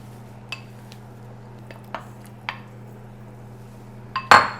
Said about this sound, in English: I'm going to go ahead and add in the calabaza.